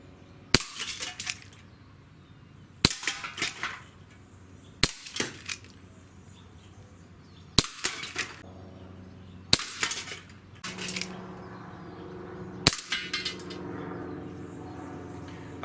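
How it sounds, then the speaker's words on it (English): Sharp, loud single reports from a Colt Python .357 smooth-bore BB pistol fired at small targets about 30 feet away, six shots spaced a couple of seconds apart, each followed by a faint ping or clink of the hit. "for a smooth bore BB pistol, you can't beat the accuracy on this gun"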